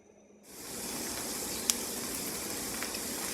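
Vegetables sweating in a pan over low heat make a soft, even hiss that starts abruptly and stays steady and faint, with one tiny pop partway through.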